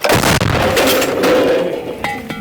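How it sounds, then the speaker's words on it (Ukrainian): A single loud, close artillery blast booms and rolls away into a long rumbling decay. "Постріл!"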